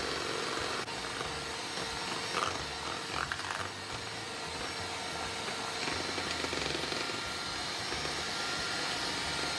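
An electric mixer beats chocolate chip cookie dough at low speed, giving a steady whirring drone that runs unbroken throughout with slight grinding variations and no talking.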